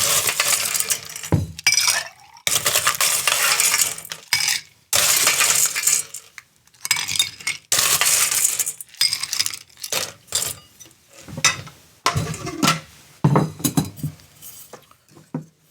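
Ice cubes clatter into a metal cocktail shaker for a chocolate margarita, a loud, busy run of hard clinks and rattles in separate bursts with short pauses between, close by and without talk.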